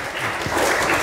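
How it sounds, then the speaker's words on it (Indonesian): A church congregation claps during an Indonesian sermon, a short burst of dense, fairly quiet applause that holds steady and grows slightly fuller toward the end. "Sekali lagi beri tepuk tangan yang paling meriah untuk Tuhan."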